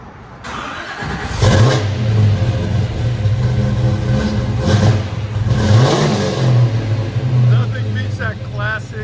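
A 1969 Yenko Camaro with a 427 V8, 425 horsepower, headers and a Flowmaster 40 Series exhaust revs loudly and up close, throttle blips rising and falling over a steady rumbling idle.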